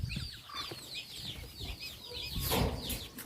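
Backyard chickens and hens clucking together, a busy overlapping chorus of close, repeated clucks with some higher calls and rustling, no talk.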